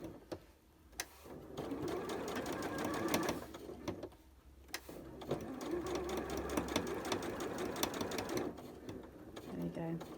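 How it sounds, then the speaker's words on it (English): A sewing machine stitches fabric for a skirt pocket, including a short back stitch, with close mechanical whirring runs broken by brief pauses, faint overall and heard alongside a woman's speech. "Just do another little back stitch like so."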